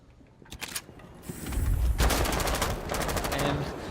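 Gunfire in Rainbow Six Siege during a competitive match, a few sharp shots early followed by sustained rapid automatic bursts, loud and close.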